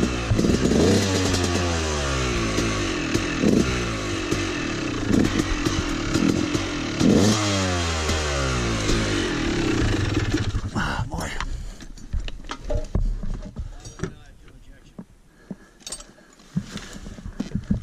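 A dirt bike engine at a motocross resort revs up repeatedly in sharp, rising bursts, then drops to a rough, sputtering idle with clattering and faint background noise.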